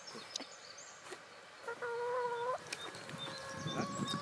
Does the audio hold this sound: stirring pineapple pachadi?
no